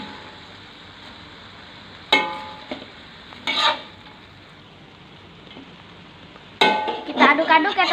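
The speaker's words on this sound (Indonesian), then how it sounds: "Kita aduk-aduk ya teman-teman." Cabbage and spices tossed in an overfilled wok for a Mie Aceh-style stir-fry: close, bursty scraping and sizzling strokes of the spatula in short bouts, with quiet stretches between and a longer, busier run of stirring at the end.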